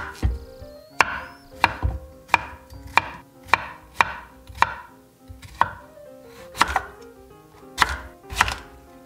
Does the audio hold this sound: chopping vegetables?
yes